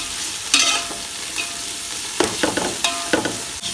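Shredded cabbage and capsicum stir-fried for chicken fried rice, with a steady background sizzle broken by several sharp spatula scrapes and clanks against the pan, close and fairly loud, no talking.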